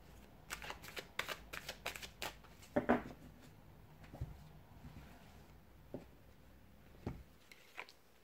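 Tarot cards are shuffled in quick riffling bursts, crisp and close, with pauses between rounds and softer patters near the end.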